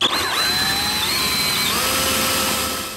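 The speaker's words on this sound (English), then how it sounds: "all I do is just drill in here" A power drill bores into a broken plastic tab on a John Deere D130 lawn tractor part, whining steadily and shifting pitch as it cuts, loud and close with no talk.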